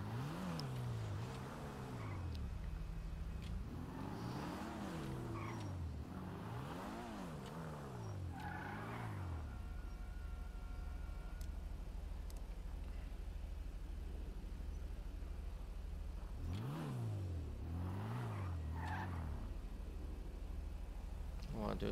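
A Volkswagen Golf Mk1/Mk2 in GTA 5 Online revs in repeated surging bursts, goes quiet for several seconds, then revs again, loud and close.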